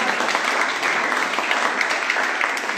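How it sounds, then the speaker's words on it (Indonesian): A church congregation at an Indonesian healing and testimony service claps for God in a steady, even crowd applause, moderately loud, with no voice over it for the short stretch. "Kasih tepuk tangan buat Tuhan kita"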